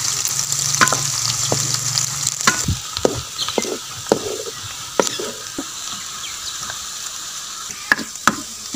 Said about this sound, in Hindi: अब हम प्याज को ब्राउन करेंगे।